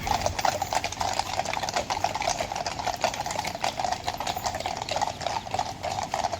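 Steady clip-clop of horse hooves near Buckingham Palace in London, in a dense, busy crowd ambience, continuous and moderately close, no clear speech on top.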